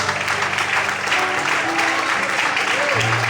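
Steady applause from an audience fills the space, with a crowd murmur and faint musical tones underneath.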